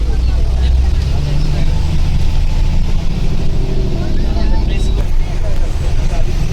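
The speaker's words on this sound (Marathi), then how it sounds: "चला गाडी तर निघाली आहे" An MSRTC state transport bus pulls away on the Ratnagiri to Mumbai route, its engine a loud, continuous low rumble heard from inside the cabin, with people talking over it throughout.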